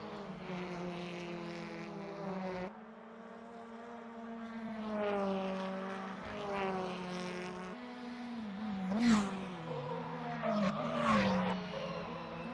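Racing engines whine and rev, pitch climbing and dropping as gears shift, with tire skids and brief roaring surges near the end.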